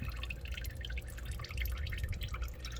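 Used engine oil drains from a car's drain plug during an oil change, a steady close trickle of fine dripping and splashing liquid that runs continuously without pause.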